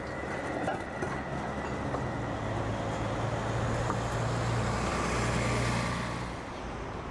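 A Heidelberg train with a low-floor middle section runs past in a steady, fairly loud rumble of wheels and motor, with a faint hum throughout and the sound fading slightly at the end.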